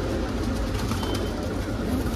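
A flock of Punjabi pigeons keeps up an unbroken chorus of low cooing, close and steady throughout, with no voices present.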